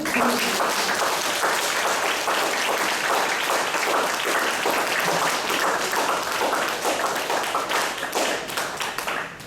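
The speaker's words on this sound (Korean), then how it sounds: "다 같이 박수로 다시 한번 보내드립니다." A church congregation claps together at a summer camp closing worship service, loud and dense applause that holds steady for the whole stretch and tails off slightly at the end.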